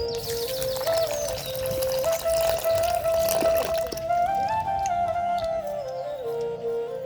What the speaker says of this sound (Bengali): তা আমি এখানে পানি দিয়ে দিচ্ছি